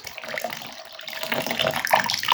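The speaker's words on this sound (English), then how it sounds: "we're gonna add some more water" Water pours and splashes continuously into a container nearby, a steady bubbling rush that grows slightly louder toward the end.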